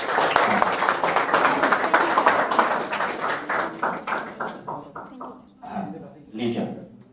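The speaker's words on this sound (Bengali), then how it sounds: "আপনারা হাততালি দেবেন।" Dense applause from an audience at a 2024 welcome ceremony for a new batch of residential coaching students fills the room, then thins into scattered, fading claps, with voices talking underneath.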